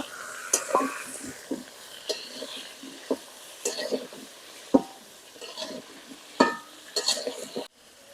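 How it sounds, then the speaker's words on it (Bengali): Cauliflower frying in hot oil with onions in a pan, a steady sizzle broken by repeated scraping stirs and spoon clinks at an irregular rhythm, close and fairly loud, with no talk. "ফুলকপিটা দিয়ে একটু তেলের সাথে বাজা নিব"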